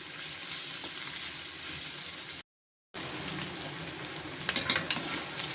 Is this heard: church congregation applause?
no